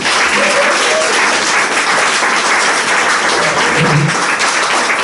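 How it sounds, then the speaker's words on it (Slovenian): Big, sustained round of applause from the audience at a talk with Peter Ceferin in the Ruska dača in Zgornje Gameljne, dense and steady throughout with no talking. "Jaz mislim, da si je Peter zaslužil en velik aplavz."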